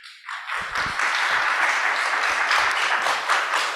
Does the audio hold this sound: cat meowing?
no